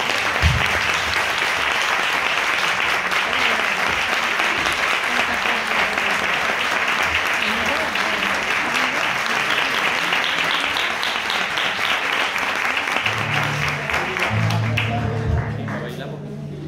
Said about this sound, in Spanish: Y yo quiero que ustedes le den un fuerte aplauso, como ustedes sabéis hacerlo.